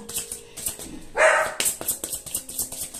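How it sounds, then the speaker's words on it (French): A dog barks in short bursts indoors, one louder bark standing out amid repeated yips, fairly close. "excusez-moi pour le chien. Je ne sais pas si vous entendez"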